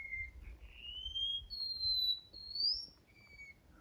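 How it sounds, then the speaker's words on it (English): A wild bird in the Durmitor mountains of Montenegro near an ice cave gives a run of high, thin whistled calls with rising and falling slurs, fairly clear over a low rumble of wind or a vehicle. "Oh, look at that bird."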